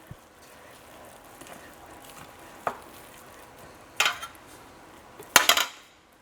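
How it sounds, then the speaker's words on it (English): Shredded cheddar cheese lightly stirred into a muffin batter: soft scraping under a faint background hiss, with a few sharp clinks of a utensil against the bowl growing louder toward the end. "I'm going to just lightly stir that in."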